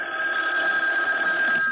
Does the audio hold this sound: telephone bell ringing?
yes